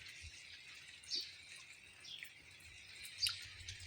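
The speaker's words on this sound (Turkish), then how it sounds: "Yağmur yağıyor." Light rain falls steadily as a soft, even hiss on a late-May day around Bodrum, with a few brief bird chirps rising above it.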